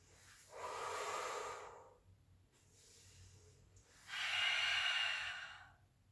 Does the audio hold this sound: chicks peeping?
no